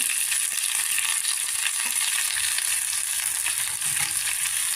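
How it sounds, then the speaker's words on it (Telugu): Mint leaves, with green chillies, fry in a spoonful of oil in a pan, giving a steady, close, even sizzle with light crackles throughout and no talking. "ఇందులో పుదీనా వేసుకోవాలి. ఇది పచ్చివాసన పోయేదాకా ఫ్రై చేసుకోవాలి."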